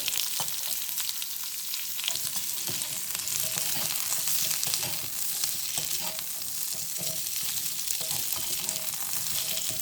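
Ingredients for mutton chops frying in a pan, a continuous bright sizzle with scattered scraping taps from stirring, steady and close throughout.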